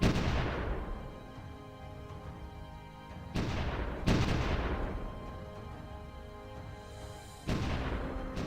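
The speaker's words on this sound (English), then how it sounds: "we're bombarding the elite guard over there" Artillery bombardment on elite guard troops in the strategy game Supreme Ruler Ultimate, with four loud booming blasts spaced a few seconds apart, each trailing off in a long rumbling decay.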